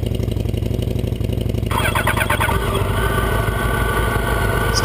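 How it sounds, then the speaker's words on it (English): A 2012 Yamaha FZ8 fuel-injected motorcycle engine cranks briefly, catches and settles into a steady, loud idle, recorded close up with no talking. "Starts up really nice, very easy, fuel injected."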